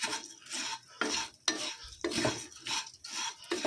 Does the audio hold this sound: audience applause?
no